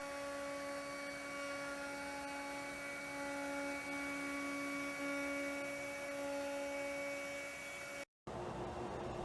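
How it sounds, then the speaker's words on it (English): A CNC router cutting panels with a 3/8 inch Vortex compression bit gives a steady, even high whine with sustained tonal hum that holds constant, then briefly cuts out near the end. "this is running really, really smooth with a 3/8 inch compression bit by Vortex Tool Company"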